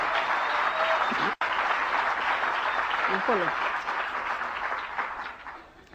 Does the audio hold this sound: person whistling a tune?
no